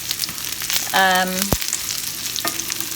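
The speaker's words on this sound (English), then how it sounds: "So now let's check on our stir fry. All right, that's looking pretty good. You're seeing the onions caramelize." Onions caramelizing in olive oil in a vegetable stir fry for a breakfast hash, a steady close sizzle with a brief stirring scrape and clatter of the pan, no talking.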